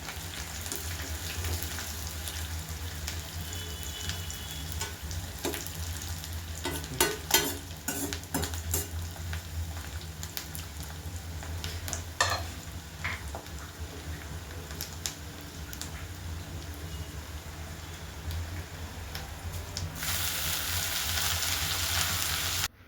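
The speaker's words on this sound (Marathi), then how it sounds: "त्याच कढईत मी आता माठाची भाजी टाकणार आहे" Amaranth greens sizzling and being stirred in a hot wok, with scraping and clinks of a spatula, the hiss swelling louder toward the end.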